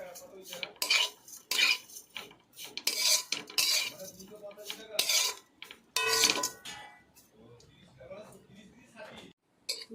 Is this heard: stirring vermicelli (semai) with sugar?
yes